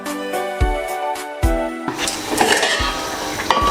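Stuffed brinjal cooking in a pan, with soft sizzling beneath metallic clinks and scrapes of a utensil stirring against the pan.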